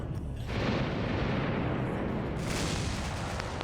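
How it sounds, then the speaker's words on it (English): Big guns in a video game fire shells in a continuous, loud, rumbling barrage of overlapping booms that sweeps through without any pause. "See all the the shells coming out."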